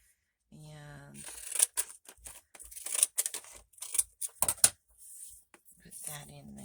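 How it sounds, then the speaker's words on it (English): Scissors snip through paper while scrap notebook pages are assembled, a run of short crisp cuts and rustles coming in quick irregular bursts, with brief hums of a voice at the start and end. "So let's use our scissors on this one."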